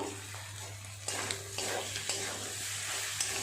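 Chilli and turmeric powder are stirred into a pan, giving a soft sizzle with several sharp scraping strokes of a spoon against the pan, fairly quiet and close, with no talking.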